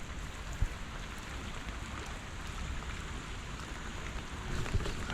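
Steady rain falls around a hiker on a woodland walk, a dense even patter with a couple of soft thumps of drops and no voices.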